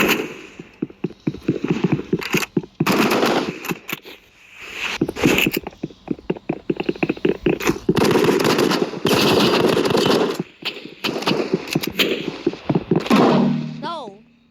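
Rapid bursts of assault rifle fire in a video game ring out loud and close, repeating volley after volley across the whole stretch while players chatter over the shooting.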